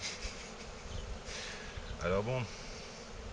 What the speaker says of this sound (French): j'ai juste des abeilles dans le pantalon